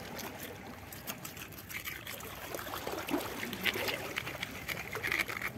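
Light rain trickles and drips steadily outdoors, a soft continuous patter with scattered small drops, faint and close by.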